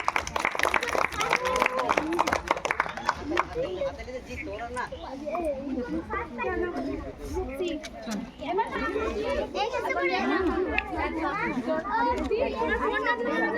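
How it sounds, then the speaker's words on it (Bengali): Children applaud at a prize giving for a sit-and-draw competition, a short dense spell of clapping at the start before lively children's chatter and voices fill the room. "এবার জোরে হাততালি।"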